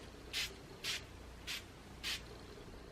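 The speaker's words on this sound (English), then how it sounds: "I like to spray over it with that facial spray" A facial spray bottle sprays onto skin in four short, breathy hissing bursts at an even pace, close and fairly soft, in a quiet room.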